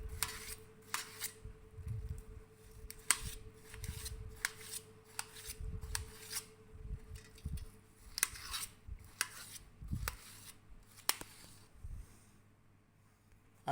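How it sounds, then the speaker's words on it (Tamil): Watermelon being chopped into small pieces with a knife on a board, a steady run of short, dull, soft cuts and taps, close and fairly quiet, with no talking. "சின்ன சின்ன பீஸாக கட் பண்ணிக்கிறோம்."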